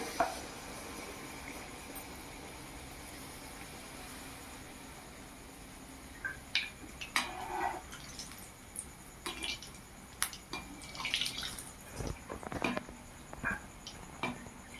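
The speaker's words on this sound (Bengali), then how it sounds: "কড়াইতে তেল গরম হয়ে গেছে এবারে ভেজে নেওয়ার পালা এই যে এক হাতা আমি এটাতে দিয়ে দিলাম" Spoonfuls of palm malpua batter hitting hot oil in a wok, giving a steady soft sizzle with sharper crackling bursts in the second half as the batter fries, close and moderately quiet.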